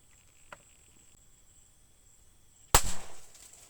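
A single sharp gunshot fired at rats in a rural Lao-Thai village setting, a loud close crack followed by a brief decaying rumble after a near-silent stretch with a faint click earlier.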